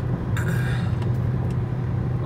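A car drives along the road, its steady low cabin rumble of engine and tyres continuous throughout, with a few faint brief clicks and rustles near the microphone.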